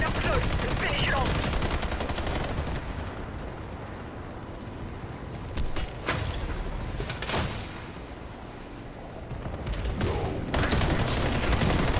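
Gunfire in the shooter game Warface: repeated bursts and sharp shots ring out at intervals over a dense, roaring battle backdrop, loud and close throughout.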